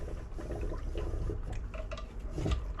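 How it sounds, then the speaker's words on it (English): Water bubbling and gurgling as a cleaning patch is pushed down a black powder firearm barrel, forcing air and residue out; a steady, close liquid churn with small drips and splashes throughout, no talking. "See the bubbles? Pushing all the air and crap out."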